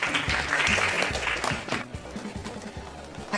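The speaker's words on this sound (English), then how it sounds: "Round of applause," A room full of people gives a round of applause, dense clapping loud for a couple of seconds before thinning into scattered claps and faint background murmur.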